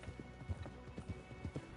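Horses clip-clop in a video game, a steady run of hoof strikes on hard ground, close and clear with no talk over them.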